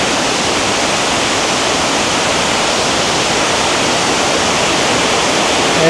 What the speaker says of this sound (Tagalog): So andito na tayo ngayon sa Kaparkan Falls.